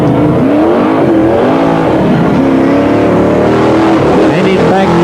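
Speedway race cars accelerate around the track at Newcastle Motordrome during a 1984 USA versus Australia heat race. Loud, continuous engine roar swells and shifts in pitch under a commentator talking throughout.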